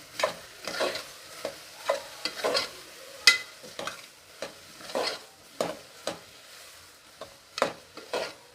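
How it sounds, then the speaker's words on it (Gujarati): Spices being stirred into Kathiyawadi vegetable khichdi in a pan, a spoon scraping and clinking in irregular strokes over a soft sizzle, close and fairly quiet. "હવે આપણે બધા મસાલાને આવી રીતે મિક્સ કરી દેશું"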